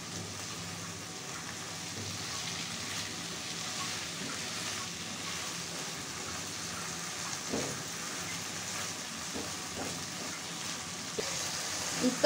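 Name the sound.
mola fish gently stir-fried with spices in a pan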